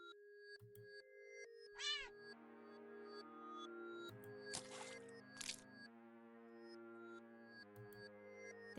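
A cat meows in a video game, a short rising and falling cry amid sparse tonal game sounds, chimes and sustained synth notes in a quiet mix, no speech.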